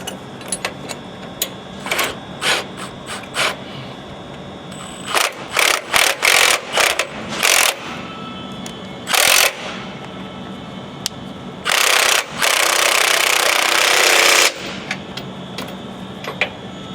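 Frame bolts are tightened on a Ford Super Duty leveling kit with a power impact tool: short sharp bursts of rattling hammering, a quick series, then a longer sustained burst, loud and close.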